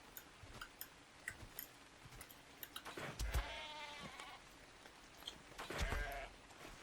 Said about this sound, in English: There were some sheep up here.